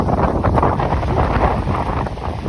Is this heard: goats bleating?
no